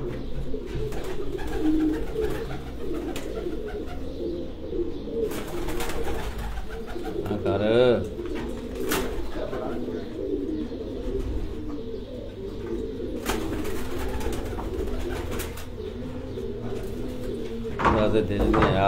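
A low, steady cooing of racing pigeons fills a Farran pigeon sports tournament in Gujrat, with sporadic clattering knocks and brief bursts of background noise over nearly twenty seconds.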